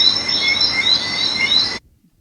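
Steady, dense chorus of crickets chirping at night, a continuous high trilling bed that cuts off abruptly near the end.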